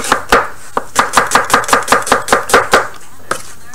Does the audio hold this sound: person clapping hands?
no